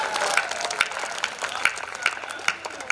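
A crowd claps at a comedy poetry gathering (kavi sammelan), a sustained patter of applause with scattered sharper claps and brief vocal bursts rising above it.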